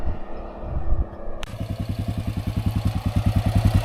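A 1988 Yamaha Ténéré motorcycle engine runs with a rhythmic, uneven chugging pulse after a sudden jump in noise, close and fairly loud, sounding rough as if misfiring.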